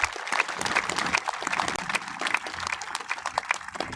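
Outdoor crowd applauding at a baseball field grand opening ceremony in Roane County, a sustained round of clapping with scattered sharp individual claps and some background crowd noise.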